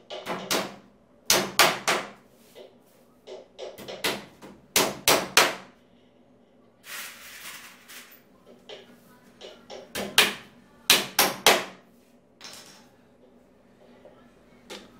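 Hammer driving nails into a youth bed frame during assembly, sharp loud strikes in quick clusters of two to four, separated by short pauses, with quieter handling knocks between.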